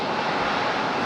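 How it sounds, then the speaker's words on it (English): A United Boeing 737-800 climbing out of Raleigh-Durham toward Denver gives a brief, loud, steady rush of jet engine noise. "So our United that just departed, United 2288. That one headed to Denver, Colorado."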